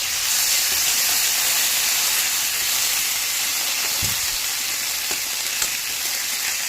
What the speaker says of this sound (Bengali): পেঁয়াজ বাটাগুলি একটু ভাজা ভাজা হয়ে গেলে তারপরে মশলাগুলি দিয়ে দেবো